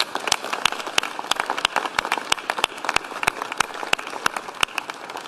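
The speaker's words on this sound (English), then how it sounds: "let us give them a round of applause." Steady applause from a crowd for athletes, dense overlapping claps with sharp individual hand claps standing out, fairly close and continuous throughout.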